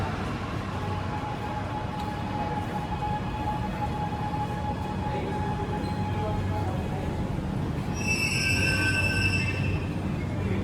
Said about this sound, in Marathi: चला म्हणते आपली आली आहे मेट्रो.